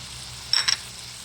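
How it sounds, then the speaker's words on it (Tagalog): Shredded chicken and hotdog sautéing for sopas, a quiet steady sizzle broken by two quick scraping stirs of the spatula, with no one talking. "habang ginigisa natin yung mga sangkap"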